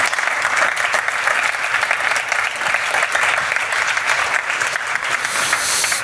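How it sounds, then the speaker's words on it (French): Sustained, loud applause from an audience at a startup pitch event, steady dense clapping filling the whole stretch with no pause. "je pense qu'on peut l'applaudir"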